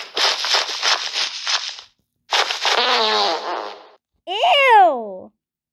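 Video game fart sounds, three separate bursts: a long crackling rasp, then a second buzzy one, then a short rising-and-falling squeal, each clearly separated by silence.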